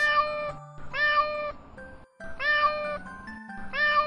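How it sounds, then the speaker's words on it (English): A cat meows in several drawn-out, wavering cries separated by short pauses, close and clear with no talking. "A cat"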